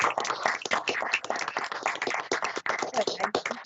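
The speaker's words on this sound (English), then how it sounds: "hearty round of applause" Several colleagues on a video call for a court livestream applaud together, producing dense, slightly thin clapping with a compressed, tinny sound.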